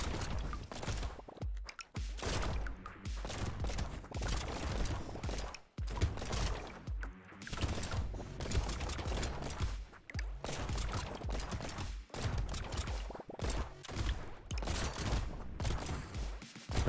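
A turret in the video game Brotato fires dense, continuous rapid volleys of gunfire, loud and nonstop across the whole stretch, with no talking.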